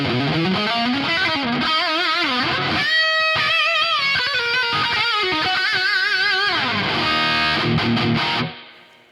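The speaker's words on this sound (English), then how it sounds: "So I'm just gonna go with some, with something which is a little bit easier to use," Distorted electric guitar lead played through a Two Notes Genome amp simulator with spring reverb, sustained melodic lines and bends ringing loud and continuous before the final note decays into a reverb tail, no talking.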